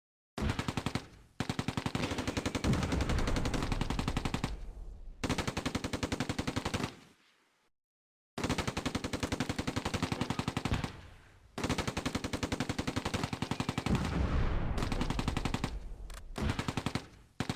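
Sustained bursts of Bren and Vickers machine gun fire in the Close Combat: A Bridge Too Far war game, set at Oosterbeek, loud and rapid, with a few short gaps and one brief silence between volleys.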